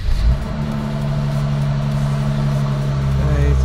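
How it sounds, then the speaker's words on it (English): A rebuilt Mercedes E43 engine starting for the first time, a loud steady run settling into a smooth idle with strong low drone throughout, close by. "I'm just gonna do a first startup and just check that the car's happy."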